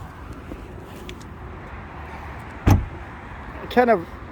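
The door of a Porsche Taycan Turbo S electric car shuts with one sharp, close thud over a quiet background, followed moments later by a short burst of speech.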